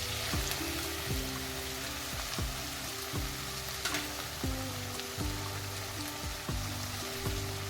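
Raw banana and other vegetables fry in a pan with a continuous sizzle, while a low droning hum with recurring sweeping pulses runs underneath; nobody speaks.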